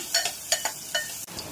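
Chopped onion dropped into hot oil in a heated pressure cooker, with soft sizzling and a few quick clinks and stirring scrapes spaced through a short, quiet moment.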